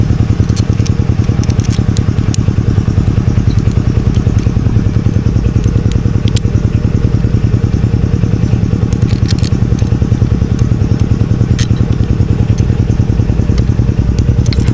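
A small scooter-type engine runs steadily up close, a continuous low mechanical drone with a fast regular pulse and scattered clicks and rattles over it, with no voices.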